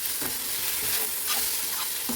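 Onion and capsicum are tossed in a hot pan over high heat, giving a steady sizzle and frying hiss with repeated soft scraping stirs throughout.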